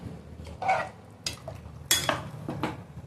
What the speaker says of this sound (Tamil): இப்போ இதை ஒரு கலக்கி விட்டுக்கலாம்.